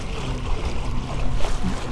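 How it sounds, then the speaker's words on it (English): An Old Town ePDL+ motorized kayak pushes through open water, a steady close wash and rush of the hull with a constant low motor-like hum and faint wind, no voices. "Just barreling through the water."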